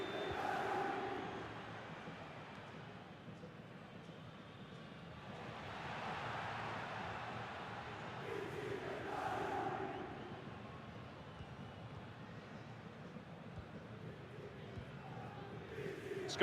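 A football stadium crowd in a video game of Napoli versus Carrarese murmurs faintly in the distance, swelling and fading in gentle waves throughout.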